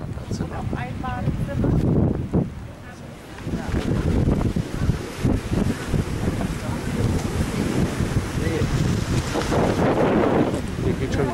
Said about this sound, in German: Hier geht schon ein bisschen Wind